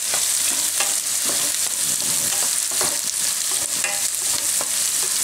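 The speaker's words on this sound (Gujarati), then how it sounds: "તો ડુંગળી થોડીક વાર પાકવા દે હું આમાં." Onions and curry leaves fry in a pan for a Gujarati spinach and gram-flour curry, giving a loud, steady crackling sizzle with repeated stirring scrapes throughout and no voices.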